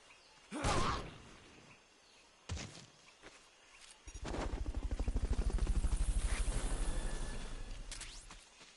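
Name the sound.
helicopter in a video game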